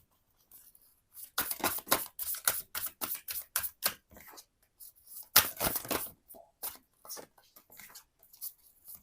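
A deck of tarot cards being drawn and laid down one after another, giving a run of close, crisp papery snaps and slides in quick irregular bursts with brief pauses, alone with no voices.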